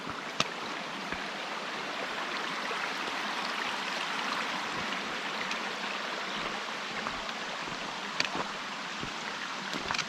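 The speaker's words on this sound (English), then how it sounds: "There are so many stream crossings." A mountain stream at a hiking trail crossing near North Bend, Washington rushes steadily and close by, a continuous broadband wash with occasional small splashes and no talk.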